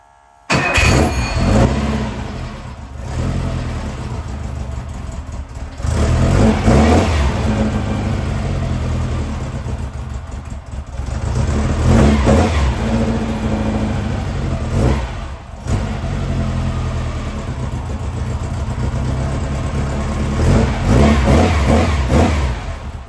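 A VW 2007cc Manx engine on a run stand cranks and fires, then settles into a loud idle broken by several sharp revving bursts, all close up.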